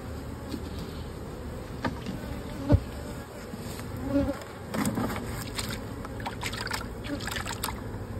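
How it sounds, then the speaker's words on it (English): Dense, steady buzzing of many honeybees at a hive fills the air close by, with a few louder passes near the microphone. "this area full of bees."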